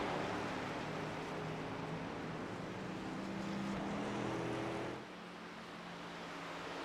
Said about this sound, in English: you can hear that engine does not sound like it's up to par